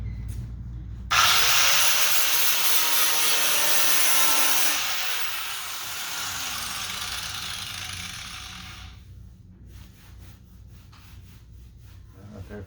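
A power grinder works metal on a dented body panel during dent repair, a loud harsh whir starting abruptly and running steadily for several seconds before easing off and stopping, leaving quieter background.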